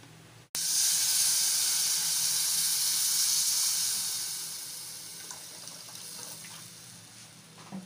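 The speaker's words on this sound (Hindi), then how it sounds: "अब हम इसमें थोड़ा थोड़ा करके पानी मिलाएंगे।" Water is poured into semolina roasting in a hot pan for halwa and bursts into a loud, sudden hiss and sizzle that gradually fades and settles, heard alone with no talk.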